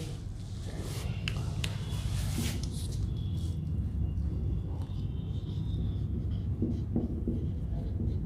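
A pen scratches out notes during a Hindi hydraulics lecture on the Venturi meter, with quick strokes and taps close to the microphone over a steady background hum.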